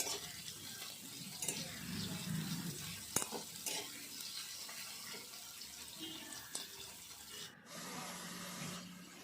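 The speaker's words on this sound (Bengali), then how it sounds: "তো রান্না করার জন্য সরিষার তেল, তারপর পেঁয়াজ মরিচ এগুলো একটু ভালো করে ভেজে নিব" Onions and chillies fry in mustard oil in a pan, a quiet steady sizzle with occasional stirring scrapes and a few sharp clicks, distant and low.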